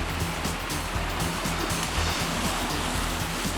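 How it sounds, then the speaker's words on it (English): Ocean wave surging onto a rocky shore, a loud continuous rushing wash of white water with low rumble, no voices. "Just wait for a wave to come up's the best way, and here comes one now"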